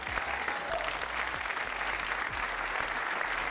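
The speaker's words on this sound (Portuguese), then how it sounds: "Um aplauso para o Rui." Steady studio audience applause on a Portuguese television game show, dense and sustained throughout at moderate level with no talk on top.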